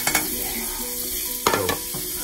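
Onion hits a hot pan with garlic and ginger and sizzles steadily while being stirred, with a few sharp spoon scrapes and clacks against the pan breaking through the close, continuous frying hiss.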